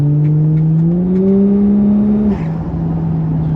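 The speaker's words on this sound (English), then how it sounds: "1JZ is like one of the best sounding inline-6 engines" A Toyota Chaser's 1JZ inline-6 engine revs up with a smooth, raspy rising tone, holds briefly, then drops back toward idle; loud and close with no talking.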